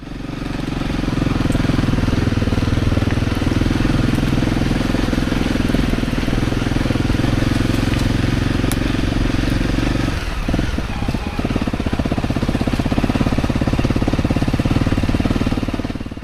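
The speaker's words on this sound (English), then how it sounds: "listen to that engine note. It's truly relaxing, monotonous, soporific even." A Honda trail motorcycle's engine drones monotonously on green trails, loud and close. The steady note wavers briefly midway, then settles back into the same even thrum, with no talking.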